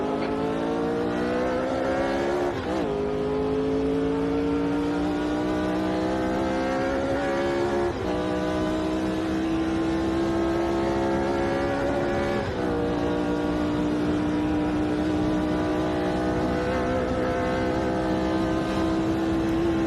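A 1967 Formula 1 race car engine in Automobilista 2 at Kyalami, South Africa, screaming loudly and continuously as it climbs through the gears, with brief dips at each upshift roughly every five seconds and no talk.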